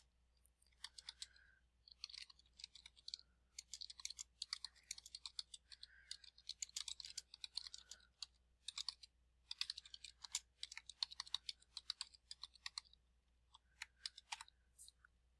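Someone types a sentence on a computer keyboard in a quiet room, a close, faint run of quick irregular key clicks in bursts with brief pauses, over a low steady hum.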